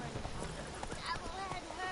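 Rhythmic hoofbeats of Roach, a horse in The Witcher 3, clopping along at a steady pace throughout, mixed with game sounds and someone talking over them.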